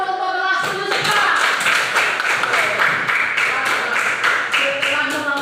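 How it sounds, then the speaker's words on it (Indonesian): A seventh-grade class applauds in a classroom at the end of a lesson, with dense, steady clapping for several seconds and voices mixed in. "tepuk tangan dulu untuk kelas 7 sekarang"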